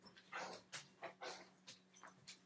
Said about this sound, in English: He's barking, going crazy.